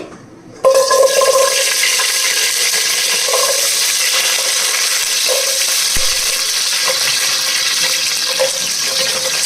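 Onions dropped into hot oil for sambar burst into a loud, steady sizzle that continues without a break, with faint clinks of stirring under the frying hiss.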